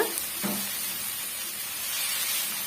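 Mint masala sautéing in a pan for pudina pulao, with a soft, steady sizzle and hiss throughout and a brief stir near the start.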